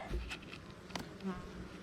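Honey bees buzz inside an opened beehive full of bees, a soft, steady droning hum throughout with slight swells, heard close up.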